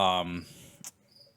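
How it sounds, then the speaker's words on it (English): Indoors, a lone cricket gives a brief chirp, faint and fairly close, after a short burst of a voice at the start, with quiet room tone around it. "Are you going to slaughter an entire family of crickets tonight?"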